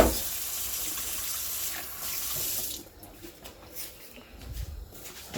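A kitchen tap runs steadily while vegetables are washed for Jamaican pumpkin soup with lamb's neck, with a continuous water rush that thins out partway through into intermittent splashes and trickles.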